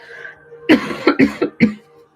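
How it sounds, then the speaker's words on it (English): A burst of several harsh coughs from a woman with a cold in quick succession, close and loud, after a brief quiet moment. "Sorry guys, you're gonna hear me cough."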